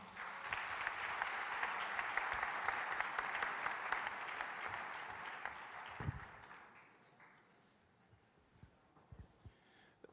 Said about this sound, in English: I want you to put your hands together and welcome Robert Glassman.